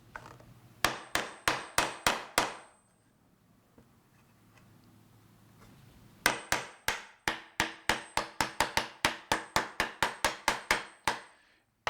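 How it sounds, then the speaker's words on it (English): Sharp taps of a small hammer knocking a wooden dovetail drawer together ring out in a quick run of about six, then after a pause a longer steady series of over a dozen strikes, close and alone. "and hammer the drawer together"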